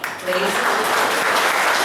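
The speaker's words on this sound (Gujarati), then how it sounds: "તાળી પાડી" A church congregation bursts into applause after a brief voice, a broad wash of many hands clapping steadily and fairly loud.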